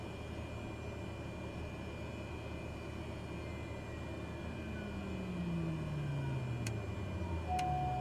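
A Cessna 208 Caravan turboprop in Microsoft Flight Simulator runs at a loud, steady drone, then its whine sinks steadily in pitch over the final seconds as the engine spools down after fuel cutoff, with two brief clicks near the end.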